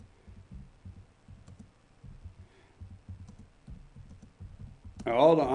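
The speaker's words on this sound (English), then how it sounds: "Wait a minute, I'm typing something." Keys on a computer keyboard in an office tap out a quick, uneven run of soft low clicks in small bursts, close to the microphone, before a person begins speaking right at the end.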